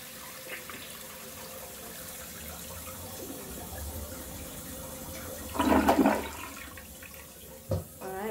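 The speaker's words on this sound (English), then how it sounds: "So I am going to flush the toilet." A household toilet flushes after a septic treatment is added: a brief loud rushing burst of water, then gurgling draining and a quieter refill hiss, heard close up in a small room.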